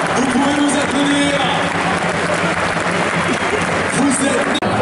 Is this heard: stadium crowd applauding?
yes